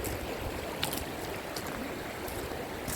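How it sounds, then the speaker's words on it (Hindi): A clear stream rushes steadily and loudly, a continuous broadband gush with occasional splashes on top, close by. "वाह, क्या शफाफ पानी, शोर मचाता हुआ।"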